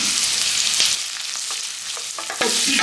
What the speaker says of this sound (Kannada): ಶುಂಠಿ ಬೆಳ್ಳುಳ್ಳಿನ ಹಾಕೋತಾ ಇದ್ದೀನಿ ಒಂದ್ಸಲ ಇವಾಗ ಫ್ರೈ ಮಾಡುವ